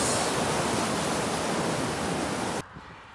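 Floodwater rushes loudly through a normally tiny brook swollen after a flash flood, a dense steady roar of turbulent water heard close up that cuts off abruptly near the end.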